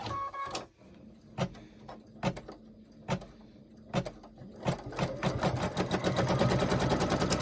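A sewing machine stitches down quilt batting in short bursts of rapid mechanical clatter, then runs into a longer, steady, close run of stitching.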